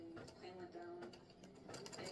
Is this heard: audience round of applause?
no